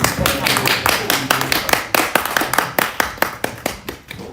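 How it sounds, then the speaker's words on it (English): Audience applause from an event crowd, dense rapid hand clapping that is loud at first, then thins into sparser claps and fades out over a few seconds. "I think I deserve a round of applause"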